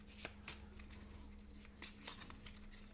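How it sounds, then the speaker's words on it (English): Playing cards for the RISE board game being shuffled by hand, a soft riffling patter with several brisk bursts over a steady low hum, close and fairly quiet. "Shuffle, shuffle, shuffle."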